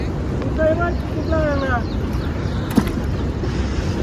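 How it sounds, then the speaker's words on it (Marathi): A repaired fishing boat runs on open water, its motor giving a low, continuous rumble under wind noise, with people talking over it. "चालते बरोबर चालते होडी बघा"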